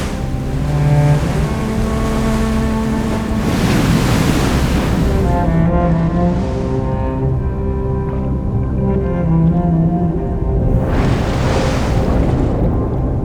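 Ocean waves surge and break one after another, loud and close, with hissing surf washes building and fading in a slow rhythm and some wind noise across the microphone.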